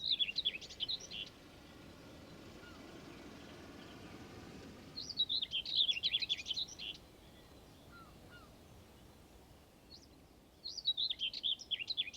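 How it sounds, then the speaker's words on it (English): Birds sing in short bursts of bright, twittering song in Welsh woodland, three separate phrases with quiet gaps between, over a soft background hush. "the silence and the sound of the birds is wonderful"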